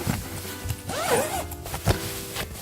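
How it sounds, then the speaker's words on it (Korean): A zipper on a mattress cover is pulled open in a single close, rasping stroke lasting about a second, followed by faint rustling of fabric. "여기 이제 그 지퍼를 열면은"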